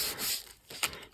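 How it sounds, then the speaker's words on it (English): Sandpaper rubbed by hand over a glossy-finished surface to rough it up before gluing, heard as a few short, close, scratchy strokes. "I'm going to sand it just a little first because it's got that glossy finish"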